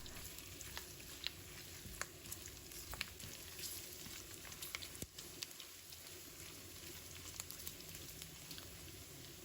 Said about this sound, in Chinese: 炒了1分钟后，就会发现刚刚没有加任何一滴油的，现在油都慢慢的跑出来了